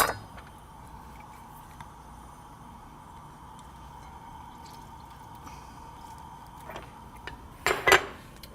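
Soft, quiet scraping and dripping as lemon juice, grated Parmesan, hot pepper flakes and olive oil are stirred in a bowl, ending with a few sharper clinks of utensil against the dish.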